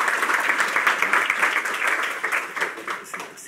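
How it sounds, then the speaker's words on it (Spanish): A seminar audience at a talent-management event applauds a speaker being introduced, a lively, close burst of many people clapping that tapers off toward the end. "Así que démosle un aplauso al doctor Canals."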